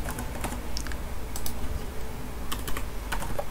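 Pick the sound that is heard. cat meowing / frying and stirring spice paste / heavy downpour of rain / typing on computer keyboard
typing on computer keyboard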